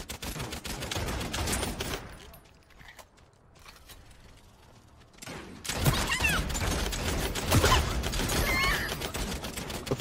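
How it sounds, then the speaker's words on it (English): Bursts of gunfire in a multiplayer shooter video game, dense rapid shots filling the start, a quieter lull in the middle, then loud continuous shooting and clatter returning for the final seconds. "There was a guy outside shooting me."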